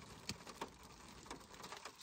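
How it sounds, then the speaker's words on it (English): Hail falls outside, a steady faint patter broken by sharper scattered ticks, heard from indoors without talk. "you can hear the hail. It's hailing."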